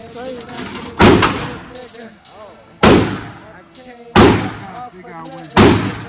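A custom Glock 43x pistol fitted with a 33-round magazine fires four sharp, loud shots spaced roughly a second and a half apart, with people chatting between the blasts.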